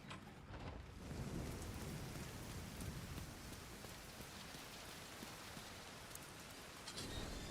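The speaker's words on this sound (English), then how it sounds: "It's raining." Rain falls in The Division 2 video game, a steady, dense patter of drops on surfaces with a low rumbling undertone, continuous and moderately quiet with no voices.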